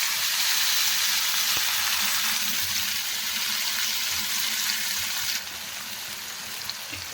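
Onions hit hot mustard-oil tempering of dried red chilli and nigella seeds in a kadai, giving a loud, dense, continuous sizzle that drops slightly in level partway through.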